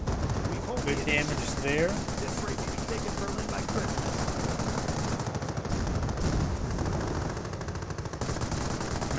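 Gunfire in a Company of Heroes game battle: dense machine-gun bursts and rapid shots rattle continuously throughout, with a commentator's voice speaking over the fighting.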